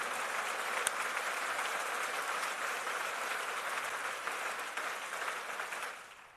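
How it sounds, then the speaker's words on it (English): An audience at a military change-of-command parade gives steady, sustained applause that fades out toward the end. "Can we have a round of applause for our"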